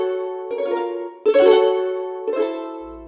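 A melodic chord phrase sample played one semitone off key, three sustained tonal notes with reedy, flute-like harmonics and vibrato, each swelling then fading, loud and alone with a soft low thud at the end.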